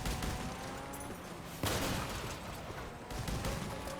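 Shotgun blasts and other gunfire in the vehicle combat game Crossout, heavy continuous shooting with sharp, louder blasts standing out over dense battle noise.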